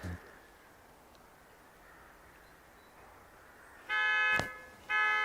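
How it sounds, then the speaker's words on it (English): Volvo XC60 alarm set off with the key fob panic button in a car park, sounding as loud, harmonic electronic bursts that start near the end after quiet ambience, pausing briefly and then resuming. "The key fob has a panic button which will sound the alarm when you press it"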